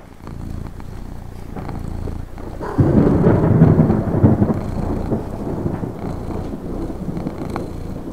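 Monsoon rain and thunderstorm in Lucknow near the Imambara and Rumi Darwaza: steady rainfall with a loud rolling rumble of thunder swelling in after a few seconds and slowly fading.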